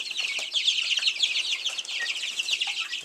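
Young speckled Sussex and dark Cornish chicks peep and cluck constantly in a dense, high-pitched chorus, close and moderately loud, with no talk over it.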